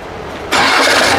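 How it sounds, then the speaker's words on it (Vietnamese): A diesel forklift engine kicks in abruptly and keeps running, a loud, close, broadband engine roar that starts halfway through the clip and holds steady. "Tiếng ồn xe dầu xem"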